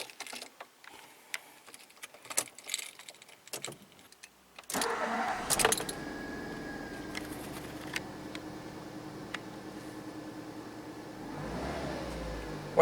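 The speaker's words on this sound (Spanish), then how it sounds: "ahí ya está el auto en marcha" A car engine cranks and catches after a few quiet clicks and rustles, then settles into a steady idle, recorded close up during an automotive scanner test.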